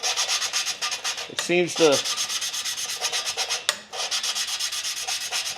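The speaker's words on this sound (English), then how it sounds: "It'll like grind real good at first, and then it'll like smooth out." Steady rhythmic gritty rasping of grinding compound being rubbed on an engine part, continuous and close, with a brief spoken phrase partway through.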